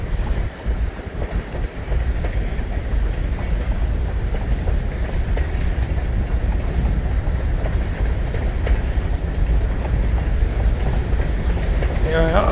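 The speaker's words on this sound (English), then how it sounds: "when you see the full array of the train across the spread of the bridge" Freight train of grain hopper cars rolling across a bridge, a steady loud rumble and rattle that carries throughout, with wind buffeting the microphone and a voice speaking over it.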